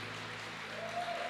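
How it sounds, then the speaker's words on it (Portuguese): A church congregation applauds during a sermon, a soft, brief wash of clapping over a steady low hum. "Dê um aplauso a Ele."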